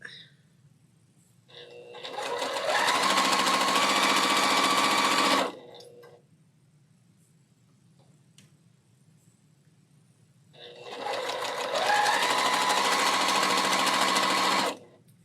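A sewing machine stitches a pink quilt block in two sustained runs of fast, even whirring and needle chatter, close and fairly loud, with near-quiet pauses between them.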